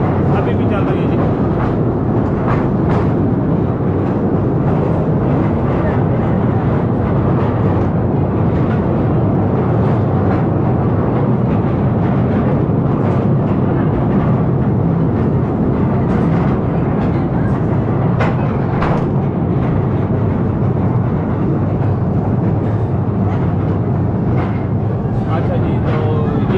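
Moving train heard from inside while traveling through a tunnel or cave area, a steady loud rumble with rattling wagon clatter throughout, and people talking over it.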